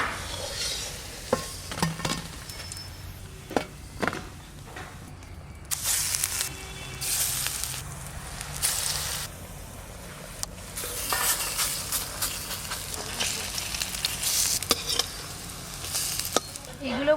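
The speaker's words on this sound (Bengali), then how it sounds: "লাউ পাতার বড়াগুলো ভাজা হয়ে গেল।" Bottle gourd leaf fritters frying in oil, a continuous crackling sizzle with bursts of louder spitting and occasional clinks of a utensil against the pan, close by and steady throughout.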